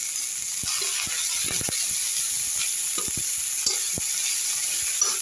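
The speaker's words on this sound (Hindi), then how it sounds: "अब मैं इसमें इसी समय पे 1 चम्मच हल्दी डाल दूँगी।" Spiced masala for an aloo samosa filling sizzles steadily in a pan as turmeric goes in, with scattered spatula clicks and scrapes over the constant hiss; no one speaks.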